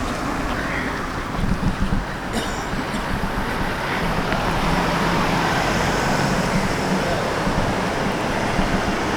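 Road traffic in Balmain, Sydney, with cars passing as a continuous low roar and swelling whooshes, heard outdoors at moderate distance with no talk.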